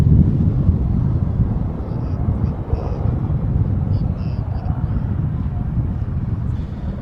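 A Czech Mi-8-based Hip helicopter, a hot-and-high version, flying in formation during air show arrivals, heard as a steady, loud, low rotor and engine roar that holds throughout with no clear change.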